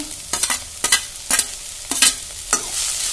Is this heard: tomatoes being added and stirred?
yes